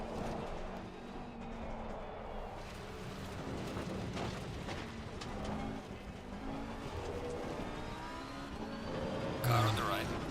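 Race car engine in Assetto Corsa Competizione, a community race at Donington or Oulton Park, drones steadily at high revs with shifting pitch throughout, with a voice talking over it and a brief burst near the end.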